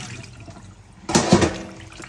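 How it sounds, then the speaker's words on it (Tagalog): Water running over salted pork offal as it is rinsed by hand, a quiet steady trickle that swells into a louder splashing burst midway before easing back, with no talking. "At saka natin hugasan."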